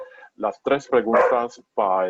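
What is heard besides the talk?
dog barking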